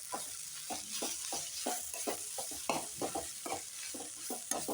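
Onions fry with salt and turmeric powder for an onion chutney, a steady sizzle broken by rhythmic scraping strokes of a spatula, close and moderately quiet, repeating roughly twice a second.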